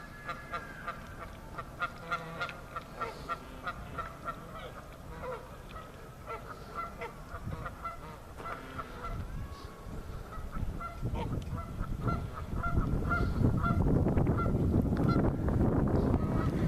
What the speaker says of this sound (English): Wonder how they get along with the geese.